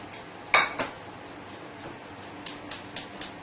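Salmon goes into a hot pan with a clatter of metal, pan and utensils knocking and clinking, one sharp knock early then a run of quick, fairly close taps near the end over a quiet kitchen background.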